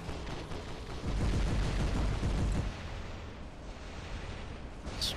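Sustained heavy gunfire pounding against a shield in the War Robots game, a dense continuous roar of shots and impacts that swells briefly and then holds steady, loud and close.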